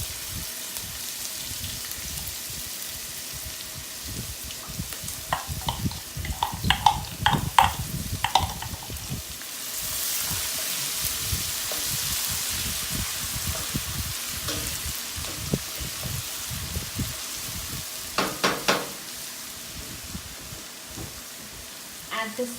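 Onions fry in oil with chopped ginger and garlic for a Kerala fish curry, a continuous moderate sizzle broken by scattered clicks and utensil scrapes and a louder surge of crackling midway.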